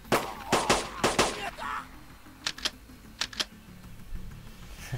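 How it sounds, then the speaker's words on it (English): Gunfire in the strategy video game March of War comes in sharp, separate bursts of shots, some in quick pairs, over a faint game background. "Open fire! Shoot."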